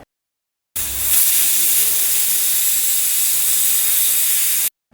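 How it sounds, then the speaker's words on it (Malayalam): A kitchen pressure cooker lets off its whistle: a loud, steady, close steam hiss that starts abruptly, holds evenly for about four seconds and cuts off sharply, with nothing else heard. "അപ്പോൾ കുക്കറിൻ്റെ വിസിൽ വന്ന് തുടങ്ങി"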